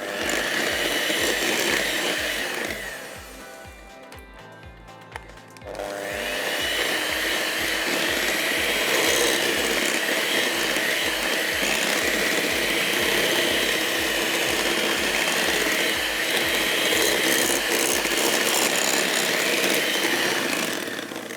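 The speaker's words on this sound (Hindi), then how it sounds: "और अब अच्छी तरह अंडे हम फेंटेंगे।" Eggs beaten in a bowl with an electric mixer for a macaroon cake, a loud continuous motor whir that dips briefly, then resumes steadily, with a regular low rhythmic thump underneath.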